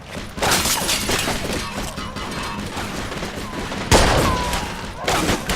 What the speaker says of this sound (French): Mets-toi à la mitrailleuse!